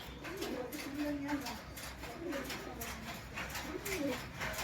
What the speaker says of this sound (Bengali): টেডি পায়রাটা দেখুন